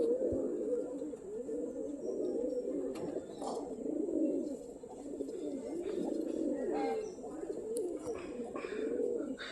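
Pigeons cooing in a loft where a flock is kept and flown, a steady overlapping murmur of soft throaty coos running throughout, close and continuous, with occasional brief sharper noises.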